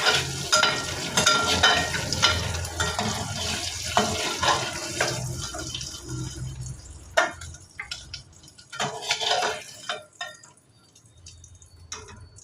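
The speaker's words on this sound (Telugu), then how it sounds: "అవి కొంచెం దోరగా వచ్చేలాగా వేపుకోవాలి." Eggs frying golden in a pan, with steady sizzling and stirring scrapes, a few water-tap splashes and clinks near the end, no talking.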